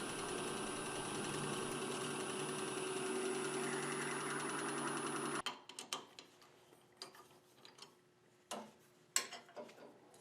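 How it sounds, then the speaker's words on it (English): A segmented wood block is drilled on a lathe with a Forstner bit to a standard dowel size, a steady loud machine drone running for about five seconds, then stopping abruptly, leaving scattered clicks and knocks. "they are put into the lathe, and then using a Forster bit, the inner hole of the segmented block is cleaned up and drilled"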